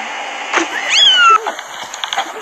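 A cat gives an odd, drawn-out meow that slides downward, loud and close, set among scattered household noises and faint clicks.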